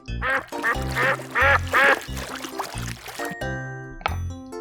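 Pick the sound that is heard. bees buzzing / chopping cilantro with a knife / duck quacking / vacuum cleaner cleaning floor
duck quacking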